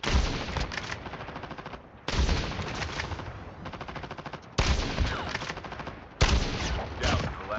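Loud, sustained bursts of gunfire fill Call of Duty gameplay, with four long blasts of rapid shots separated by sharp onsets and brief gaps, dense and close.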